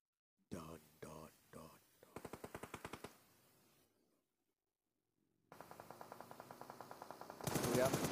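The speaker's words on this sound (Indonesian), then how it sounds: "Dawn menembak si Mimpro." Gunfire in PUBG Mobile during a competitive match: several single heavy shots, then rapid automatic bursts, a pause, and a long sustained stream of automatic fire, with a faint voice underneath.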